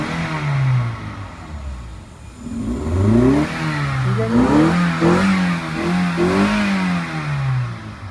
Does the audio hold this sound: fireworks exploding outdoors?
no